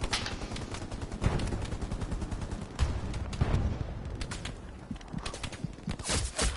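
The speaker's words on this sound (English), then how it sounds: "it's artillery incoming on the tank" Artillery shells landing near a tank in the game Hell Let Loose, heavy booming impacts mixed with sustained crackling gunfire, loud and close throughout with periodic stronger blasts.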